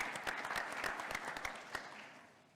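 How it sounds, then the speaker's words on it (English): A convention audience applauds steadily for more than two seconds. The dense, even clapping is faint and distant, and it slowly tapers off. "a round of applause for also the BIF committee on the RealWare"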